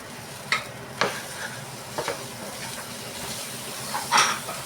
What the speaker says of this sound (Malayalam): ഇനി നമ്മൾ വെണ്ടയ്ക്ക അതിലേക്ക് ഇട്ട് കൊടുക്കുകയാണ്.